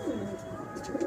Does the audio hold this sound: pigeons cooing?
yes